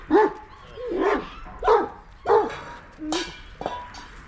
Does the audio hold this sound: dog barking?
yes